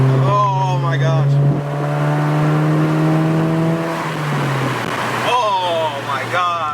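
A Volkswagen GTI MK7 running a stock ECU accelerates from inside the cabin, its engine drone climbing steadily in pitch, then easing off and dropping, while people talk excitedly over it at the start and end.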